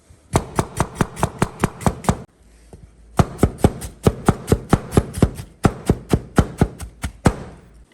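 A knife finely chopping onion on a board, a fast, steady run of sharp knocks in three bursts with brief pauses between, close and clear with no talking.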